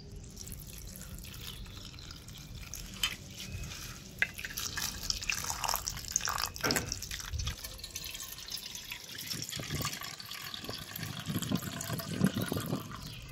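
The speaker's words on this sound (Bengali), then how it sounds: "এই চিড়েটাকে ভালো করে ধুয়ে পরিষ্কার করে নেব।" Flattened rice (chira) being rinsed by hand in a bowl of water in a kitchen, soft splashes, drips and sloshing in irregular bursts, fairly quiet and close.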